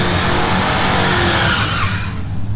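A manual car is driven hard, its loud, close engine roar and rushing noise mixed with a thin tire squeal, with no one speaking.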